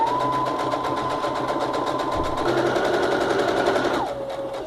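A sewing machine runs steadily and close, stitching a fabric toiletry bag, with a continuous whirring drone that shifts pitch slightly near the end and no talk over it.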